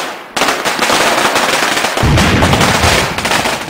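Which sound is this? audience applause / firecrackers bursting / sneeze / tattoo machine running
firecrackers bursting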